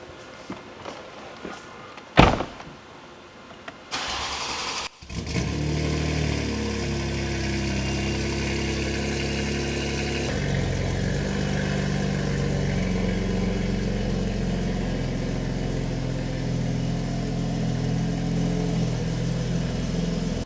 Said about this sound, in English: this is going to be the first cold start in a month of me hearing it